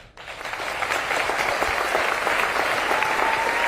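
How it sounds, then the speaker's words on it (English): A large crowd at a Kamala Harris political rally in Pennsylvania bursts into loud, sustained applause, swelling quickly and holding dense and steady throughout. "let's give them a loud round of applause"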